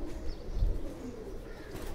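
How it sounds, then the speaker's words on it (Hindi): Short, low cooing from pigeons of a Ferozpuri and Faqeergull mix breed in a loft, a faint throaty burble rising once and fading, with no voices. "ये इनके जोड़ों वाले कबूतर हैं"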